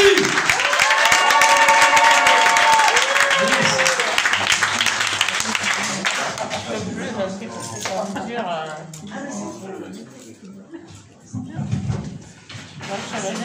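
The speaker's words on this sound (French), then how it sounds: "Mesdames et messieurs, sous vos applaudissements, Jeffrey." A comedy show audience applauds loudly for several seconds, then the clapping fades as a voice speaks in French and a few cheers remain.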